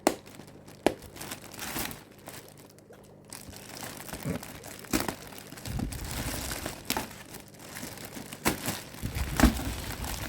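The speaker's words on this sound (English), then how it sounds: "Just cut the bag, maybe." A plastic bag holding fish is cut open and handled, giving a run of crinkling, rustling and tearing sounds in uneven bursts that stay close and fairly loud.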